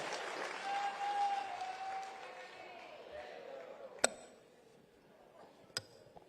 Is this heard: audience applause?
yes